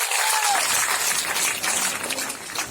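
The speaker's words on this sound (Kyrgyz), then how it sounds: "Бул эмгектин үзүрүнө дагы бир жолу кол чаап койсоңдар болот." An audience in a hall claps together in sustained, dense applause at a regional annual report event for a disability society in Jalal-Abad, with a faint voice near the start.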